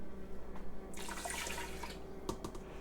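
Tap water runs into a measuring cup in a home kitchen while beef broth is being made, a brief moderate splashing rush that swells and then fades, alone without talk.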